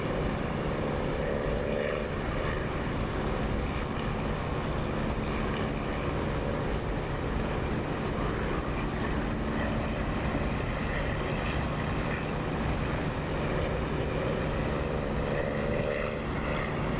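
A propeller aircraft engine in the DCS flight simulator drones steadily and loudly for the whole stretch, a dense unbroken roar with no voices.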